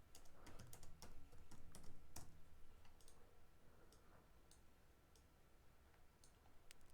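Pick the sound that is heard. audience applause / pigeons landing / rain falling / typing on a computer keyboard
typing on a computer keyboard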